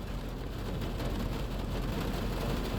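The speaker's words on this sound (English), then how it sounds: "I like listening to the rain too." Rain heard from inside a car, a dense, steady patter and hiss on the body and glass, continuous and fairly loud with no talk.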